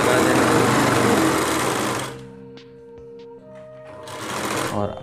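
A sewing machine stitches the side seam of a ready-made Rajputi-style lehenga, running fast, loud and close for about two seconds before stopping. A voice speaks afterward, and the machine briefly starts again at the end.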